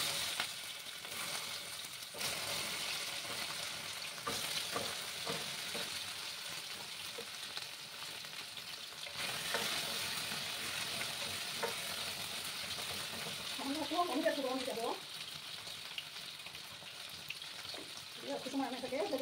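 Gathi taro pieces fry in hot oil left from frying rohu fish, giving a steady bright sizzle with occasional stirring, and a voice speaks briefly near the end.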